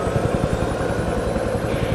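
Helicopter from the game Helicopter Simulator: Search & Rescue, a steady close rotor thump with rapid rhythmic low beating over a continuous engine drone throughout.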